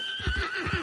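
A horse whinnies in Red Dead Redemption 2, a loud, wavering neigh lasting under a second alongside low stamping and snorting, with no talk over it.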